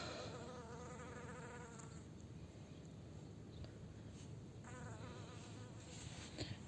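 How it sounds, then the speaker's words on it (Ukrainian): A bee buzzes faintly among blooming flowers, its drone rising and fading as it moves about nearby, over a soft outdoor background. "вже ось бджола літає запилює"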